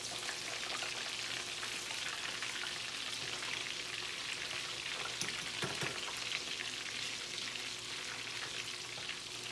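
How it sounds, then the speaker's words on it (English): Fish fries in a pan with a dense, continuous sizzle and crackle, steady and close, with no talking. "All right, so we have the fish cooking"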